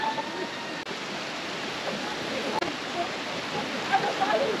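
Swollen, rushing water pours steadily at Belapur waterfall, a dense continuous roar close by with no clear breaks.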